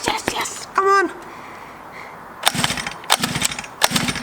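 A cheap $50 motorbike's engine coughs into life under throttle, with short, rough sputtering bursts close by after a quiet pause, following a brief voice at the start.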